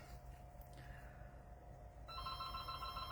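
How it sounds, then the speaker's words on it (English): A telephone ringer at the back of a craft room rings faintly with a steady electronic trill that grows stronger partway through. "let me turn off the ringer on this phone back here"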